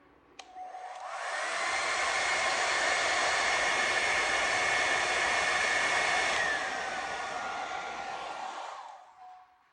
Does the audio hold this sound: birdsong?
no